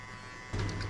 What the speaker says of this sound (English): We're gonna close the clipper halfway, and we just hit this line.